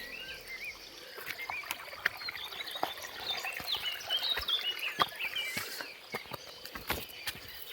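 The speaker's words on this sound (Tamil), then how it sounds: "இங்கே தண்ணி சவுண்டு கேட்குது" A stream flows steadily in the forest on a Piranmalai trek, with trickling, gurgling water and scattered clicks and chirps throughout, moderately loud and without speech.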